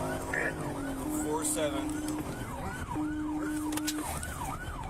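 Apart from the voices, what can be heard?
emergency vehicle siren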